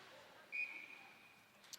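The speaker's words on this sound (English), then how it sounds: "And we've got a whistle." A referee's whistle sounds once at a girls' ice hockey game, a steady shrill tone lasting about half a second and fading into the distant arena hum and crowd murmur.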